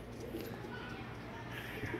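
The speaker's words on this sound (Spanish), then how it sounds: "A ver qué hace la paloma." A pigeon coos softly near its cage. The faint calls sit low under constant background noise, and a person speaks nearby.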